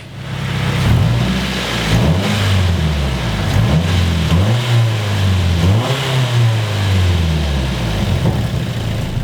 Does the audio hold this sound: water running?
no